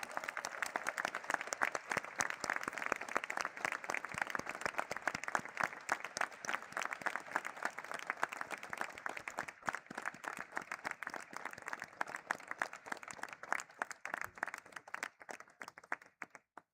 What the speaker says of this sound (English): can we have a thunderous round of applause, please?